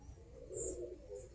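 Birmingham Roller pigeons coo in a brief, soft, throaty burst close by, with a faint high chirp mixed in.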